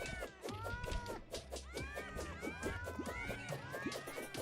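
Meowmere sword in Terraria firing its cat projectiles during a Master Mode Moon Lord fight, a dense, continuous stream of overlapping cartoonish meows and chirpy swoops layered over steady game music and effects.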